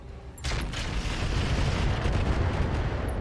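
Weapon fire from a Centurion mech in the BattleTech game RogueTech: a sudden loud blast followed by a sustained thundering, crackling barrage of shots and impacts for nearly three seconds.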